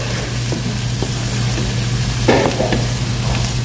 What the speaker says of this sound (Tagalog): higisa natin ang ating onion hanggang sa hindi gumambo